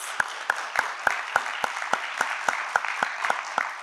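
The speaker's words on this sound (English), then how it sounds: "Let's give them a hearty round of applause." Audience applause for debate teams after a quarterfinal round on a televised debate show, a sparse rhythmic clapping with distinct, evenly spaced loud claps over a softer wash of hands, fairly quiet overall.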